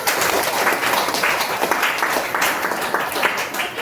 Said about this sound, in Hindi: तो एक बार अपने लिए जोरदार तालियां।